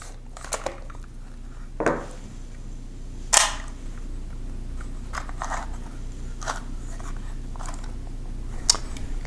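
Film being loaded into a KMZ Zorki 1C rangefinder camera gives a few scattered sharp clicks and snaps over quiet handling rustle, with one louder snap near the middle.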